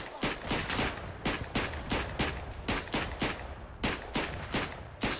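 Rapid bursts of Luger pistol fire with a snail drum magazine in the World War I shooter Verdun, close trench fighting; sharp, loud, evenly spaced shots in quick succession, some doubled, alone with no talk.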